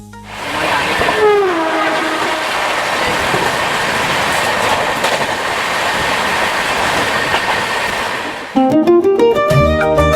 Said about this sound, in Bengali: আমাদের ট্রেন পার করতে লাগলো কোলাঘাট ব্রিজ, যার নিচ দিয়ে বয়ে চলেছে সুন্দর রূপনারায়ণ নদী